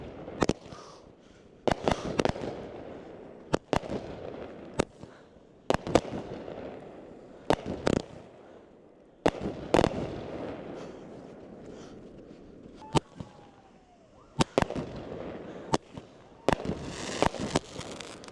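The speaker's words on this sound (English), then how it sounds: "it is time to light off this fireworks show" Backyard fireworks show going off: a long run of sharp, loud bangs and pops at irregular intervals, some in quick clusters, over a crackling, hissing background with no talk.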